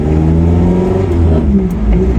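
A Ginetta G40 sports car exhaust growls loudly up close on a rolling road as the engine accelerates, its deep tone climbing steadily in pitch.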